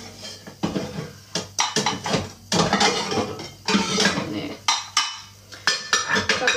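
A small pan and metal utensils clink and clatter while pancakes are made on a touch-control stove, with repeated sharp knocks and scrapes in an irregular rhythm, close and fairly loud.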